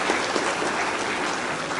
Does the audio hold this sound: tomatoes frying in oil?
no